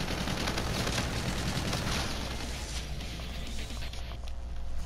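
Dual pistols firing in a video game, a dense run of rapid shots and impacts that is loud at first and thins gradually toward the end, with no speech.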